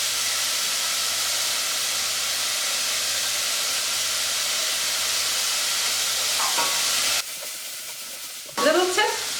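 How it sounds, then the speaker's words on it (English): Tomato paste frying in a pan with sautéed red onions for shakshuka gives a steady, close sizzle throughout, with brief stirring and scraping near the end as the hiss briefly drops. "tomato paste should always be fried out for a few minutes"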